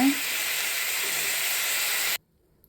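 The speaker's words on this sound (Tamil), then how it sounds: "இப்போ நல்லா வதக்கலாம் அந்த பச்சை வாசனை போகணும்" Radish and tomato sauté in a pan for sambar, giving a steady loud sizzle and hiss that runs without a break, then cuts off abruptly into near silence.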